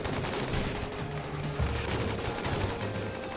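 Dense, loud mech battle in Rimworld, rockets and rapid gunfire overlapping into a continuous crackling barrage with heavier thumps mixed in, no speech.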